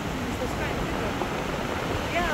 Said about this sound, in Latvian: viņš tas vilnis sitās visu laiku uz tiem akmeņiem tajās caurumiņos, kas tur ir starp tiem akmeņiem.